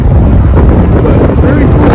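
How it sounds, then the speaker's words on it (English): Strong wind buffeting the microphone at a viewing portal in the Mosier tunnels in Oregon, a loud continuous roar and rumble for the whole moment. "it's a little windy here"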